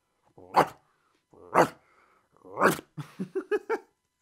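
A man imitates a barking dog with his voice, giving three loud separate barks followed by a quicker run of five short yips, standing alone without other speech.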